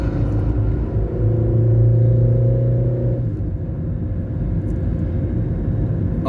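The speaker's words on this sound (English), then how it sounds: "I'm making a driving video going through the Eisenhower Tunnel in Colorado" A car drives west through the Eisenhower Tunnel in Colorado, its engine and tyre roar a loud, steady rumble filling the enclosed space, with a humming drone that fades partway through.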